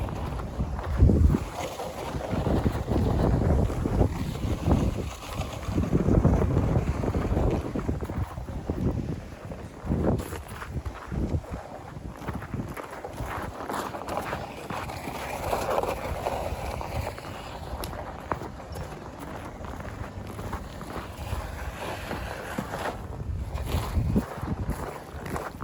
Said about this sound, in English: You could already tell it's starting to get real windy out.